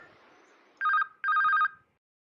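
A telephone bell rings twice in two clear, close bursts, separated by a short pause, in a quiet room.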